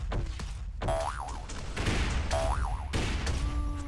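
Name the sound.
grenades being fired in a video game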